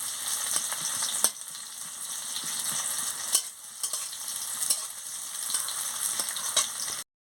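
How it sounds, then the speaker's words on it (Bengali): Chopped onion and dried chili fry in hot oil with a continuous bright sizzle, broken by occasional sharp scrapes and clinks of stirring in the pan. There is no talking. "এবার তেল গরম হয়ে গেছে, আমি পেঁয়াজ কুচি আর শুকনো লঙ্কাটা দিয়ে দিচ্ছি। দিয়ে ভালো করে ভেজে নিচ্ছি।"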